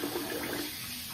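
Tap water runs steadily while a double-edge safety razor head, a Rockwell Model T, is rinsed at a sink, a brief continuous wash of water close by with no voices.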